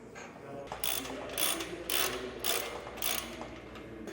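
A socket wrench with a 24 socket ratchets M16 bolts tight on a truck ladder rack, five or six quick bursts of close, loud clicking in a steady rhythm.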